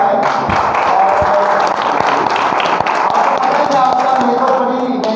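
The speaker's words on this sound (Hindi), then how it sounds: "इनकी घर की लेबर जो है इनके लिए जोर से तालियां बजाएं।" A church congregation applauds loudly, a dense continuous wash of clapping with scattered sharp hand claps and thumps, sustained throughout and close.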